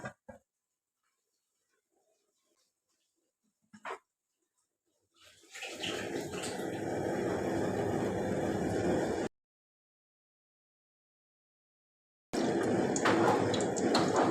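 Chicken yakhni broth poured into a cooking pot for pulao, a steady splashing liquid stream lasting a few seconds, stopping, then resuming, with near silence before.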